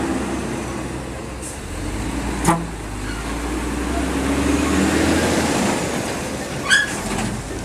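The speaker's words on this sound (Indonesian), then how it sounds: "Nah, ini ya mobil dari jalan tol menuju ke Jambi" Traffic on a toll road heading toward Jambi, with a continuous roar of passing vehicles, a few sharper swells as cars go by, and no voices.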